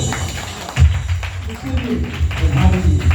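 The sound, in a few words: congregation clapping hands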